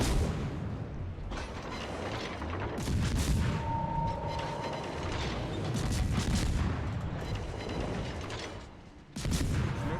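Naval guns fire in a warship video game, with heavy booms and rumbling blasts rolling over dense battle noise, loud and fairly continuous before a brief lull near the end.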